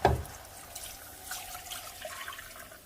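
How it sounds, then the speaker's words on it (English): Broth poured into a pan while being stirred for a white chicken enchilada sauce, giving a soft steady liquid splash that trails into faint trickling, fairly quiet and without talk. "Now I'm going to add my 2 cups of broth, and you're going to be sure to mix and combine as you pour it in."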